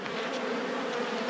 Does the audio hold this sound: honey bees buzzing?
yes